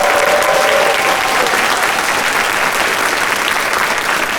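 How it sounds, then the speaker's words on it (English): A convention audience at closing ceremonies gives a sustained round of applause for the volunteers, a dense, even wash of many hands clapping at once, loud and continuous with no talking. "Please give them a round of applause."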